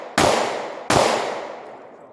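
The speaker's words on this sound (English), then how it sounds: "Let me just fire a couple of shots so you guys can see the type of jam that we're having." A firearm with an out-of-spec barrel chamber causing extraction failures fires two loud, close shots about three-quarters of a second apart, each followed by a long ringing decay, with no talk.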